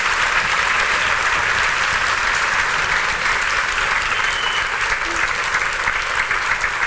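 An audience applauds at a Women at Brown event: dense, sustained clapping from a large crowd, steady and fairly loud throughout with no pauses.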